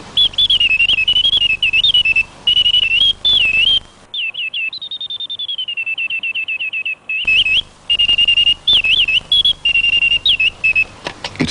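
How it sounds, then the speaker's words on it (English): A clockwork automaton bird trilling through a penny-whistle pipe fed by tiny bellows, loud shrill warbling phrases separated by short gaps, with a sustained gliding whistle in the middle. "the bird's trill is produced on the penny whistle principle, with wind from a tiny pair of clockwork operated bellows"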